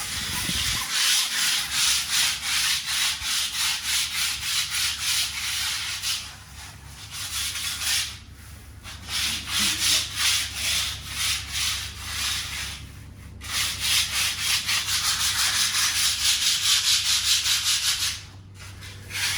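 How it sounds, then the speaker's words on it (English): Continuous rhythmic sanding of fiberglass on a pond, a harsh abrasive rubbing repeated in strokes, close up, with a couple of short pauses and a low motor hum underneath. "sanding down, ready to put the top coat on."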